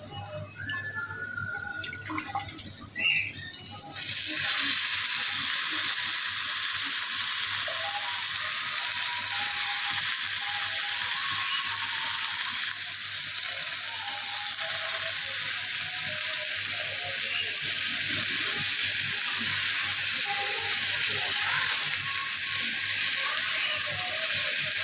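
Bitter gourd bhaji frying in a pan over softened onions, a steady close hiss and sizzle that starts suddenly and carries on unbroken, with no talk.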